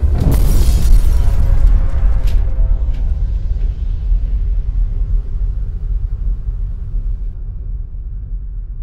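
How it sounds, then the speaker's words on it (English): The 1971 Cannikin underground nuclear explosion on Amchitka Island off Alaska: a deep, heavy rumble that starts loud and slowly fades over several seconds, with no voices. "1971, the world's largest underground nuclear explosion took place."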